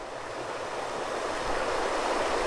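Spring water welling up from beneath a bluff at the source of the Current River, heard as a steady, broad rushing wash that swells slightly louder partway through, with no voices.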